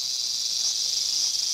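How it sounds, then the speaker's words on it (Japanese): A cicada drones in a steady, loud, unbroken high buzz throughout, heard alone in a Japanese anime movie trailer. "まあセミですから。"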